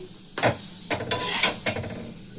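Potato paratha filling sizzles and crackles in a pan, with several scraping stirring strokes coming in uneven bursts, close and fairly loud, no talking.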